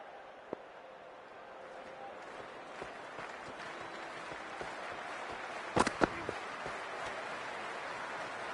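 Crowd applause and cheering wash steadily through a cricket video game on PS5 at the start of a test match, with a few sharp clicks and bat-like knocks poking through the continuous roar.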